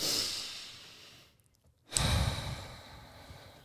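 A single deep breath drawn in, a brief held pause, then a long audible exhale, close and alone with no speech.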